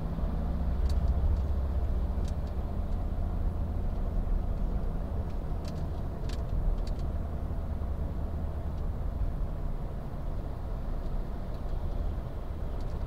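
Heavy traffic dominated by large vehicles rolls along the Jakarta–Cikampek toll road, a continuous loud low roar of engines and tires with faint higher whines passing now and then.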